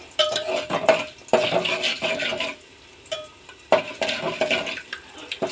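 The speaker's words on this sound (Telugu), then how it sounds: "పోపు వేగిపోయిందండి." Spices for tempering sizzle in a pan with curry leaves, broken by metal spoon stirring and scraping in uneven bursts, close up.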